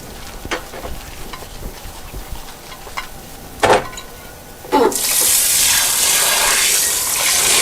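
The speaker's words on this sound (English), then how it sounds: "Sorry about all that water noise." Water runs from a tap while a Pyrex dish is washed, with clinks and scrapes of handling before a strong, continuous gush of running water takes over near and loud.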